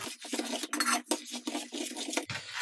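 A spoon stirs sugar into sabudana kheer in a metal pot, giving repeated close scraping and clinking strokes in an uneven rhythm with no voices.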